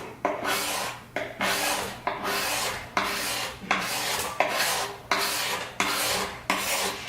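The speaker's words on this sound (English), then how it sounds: "cabinet scraper works really well in multiple spots and does a great job at giving you a nice finish" A cabinet scraper pulled across a wooden edge in steady repeated strokes, about eight close, loud raspy scrapes each ending in a brief pause, with no talking.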